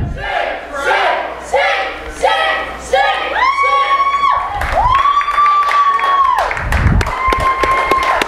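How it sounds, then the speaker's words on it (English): A crowd at a wrestling event claps and chants in rhythmic bursts, loud and close, with sustained shouted tones from many voices rising over the clapping toward the end. "Why are you clapping?"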